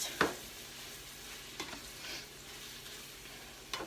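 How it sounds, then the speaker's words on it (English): Citrus zest being stirred into a cooking mixture: a few soft scrapes of a spoon, spaced out, over a faint steady hiss. "let's just mix in our zest"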